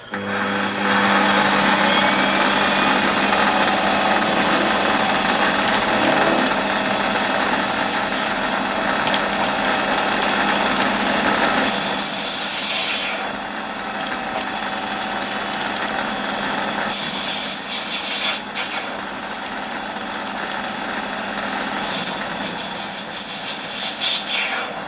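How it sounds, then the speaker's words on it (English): A metal lathe facing and centre drilling a part whirs steadily with a high tonal whine and scraping cutting noise, the pitch shifting as the tool works, with brief quieter pauses. "I'm going to face it off to the right length, and then we'll centre drill it"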